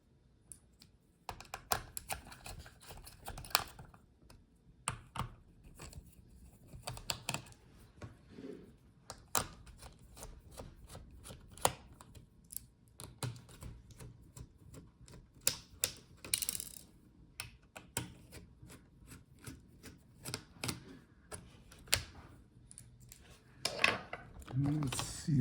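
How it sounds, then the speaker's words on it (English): Small screws securing the heatsink of an HP Omen 16 laptop are unscrewed, producing faint, scattered close clicks and ticks with soft handling noises throughout. "unscrew the screws for the heatsink."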